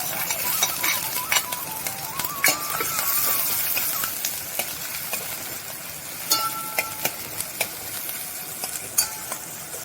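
Ginger, green chili and sliced shallots fry in hot coconut oil, giving a continuous close sizzle broken by frequent sharp taps and scrapes of a spoon stirring in the pan, with no voices.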